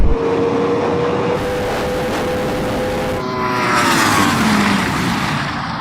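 A Ferrari SF90 and a Yamaha R1M drag racing, loud continuous engine roar with rising whine tones and a gear-change shift partway, heard close, as if from inside a car, with wind noise and no talking.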